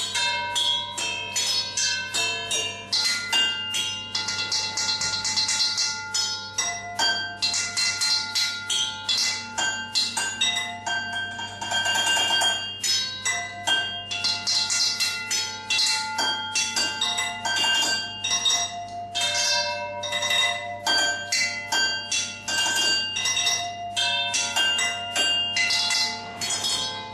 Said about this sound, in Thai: ไปลองฟังเสียงกันหน่อยดีกว่า